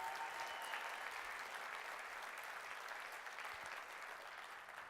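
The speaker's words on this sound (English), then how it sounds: "Round of applause for Michael Brown and our IT department" Audience applause after a technology reveal, a dense continuous patter of many hands clapping from start to finish, loud at first and tapering slightly toward the end.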